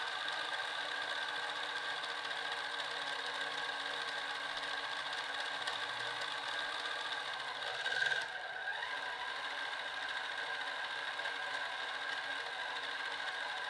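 An RC car ball differential spun up during break-in, producing a steady, high-pitched mechanical whine and buzz that runs continuously at an even level, close by, with a brief swell partway through.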